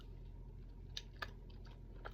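A bread roll with smoky pepper Fontina cheese being bitten, a couple of faint soft crunching bites followed by quiet chewing, close and low over a steady background hum.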